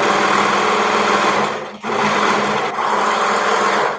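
A sewing machine stitches a shark bite garment, a loud, close, steady motor whir. The whir drops briefly and resumes twice, with no talking.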